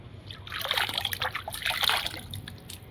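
Rainwater after a rain shower trickling and splashing steadily near a filled bucket in a garden with tomato plants, close and continuous over a few seconds.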